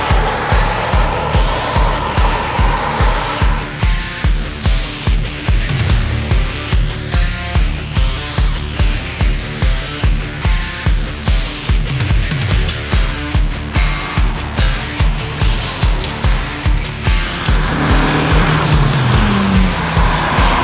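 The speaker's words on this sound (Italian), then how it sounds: "a distanza di un annetto guido di nuovo una 22B." A Subaru Impreza 22B driven hard in Moscow gives a loud, close engine note that rises and falls through gear changes, with bursts of tire squeal and no voices.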